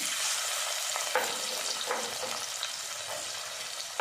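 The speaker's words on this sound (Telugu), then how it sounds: "ఆయిల్ కాలిన తర్వాత ఉల్లిపాయలు వేసుకుందాం ఆయిల్లో కొంచెం పసుపు మెంతిపొడి ఉల్లిపాయలు వేసేసుకుంటున్నాను" Onions frying in hot oil with turmeric and fenugreek powder give off a dense, continuous sizzle, close and steady throughout, with faint stirring scrapes and no voices.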